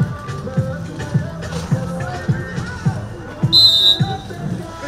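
A referee's whistle shrills briefly over crowd hubbub and repeated ball bounces at a handball match between Chambly and Hauteville, a single short blast near the end.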